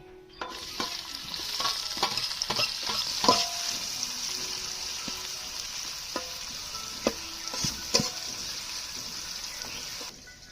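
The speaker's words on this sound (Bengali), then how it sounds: "এখন পেঁয়াজটা ভেজে নেব" Onions sizzle steadily in a pan for a village-style aloo dum, with a spatula clicking and scraping at irregular moments over the close, continuous frying hiss.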